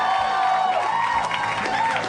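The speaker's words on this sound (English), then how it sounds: "How about a round of applause for Greg Proops, everyone?" A live comedy podcast audience claps and cheers continuously, a dense wash of applause with a few whoops rising through it.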